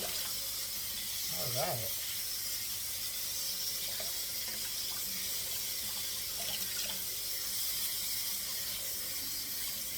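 A kitchen sink tap runs in a steady, close rush while collard greens are washed in the basin, with a few faint splashes and handling noises, and someone speaks briefly over the flow.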